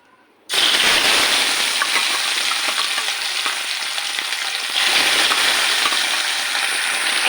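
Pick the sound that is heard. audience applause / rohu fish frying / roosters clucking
rohu fish frying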